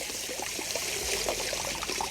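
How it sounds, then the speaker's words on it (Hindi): Pressurised water is poured over the roots of an adenium (desert rose) plant, a steady splashing stream with small gurgles and drips, close and continuous. "इस प्रकार से पानी का प्रेशर डालेंगे, और जिससे कि इसकी रूट्स में से सारा पानी निकल जाएगा"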